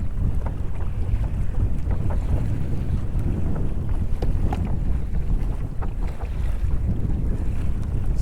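Hobie Outback sailing kayak on choppy water in strong wind: constant heavy wind buffeting and low rumble with splashing waves, close and continuous with no talking.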